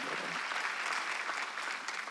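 A church congregation claps together during a Wednesday worship service, a dense, steady burst of applause that fills the room.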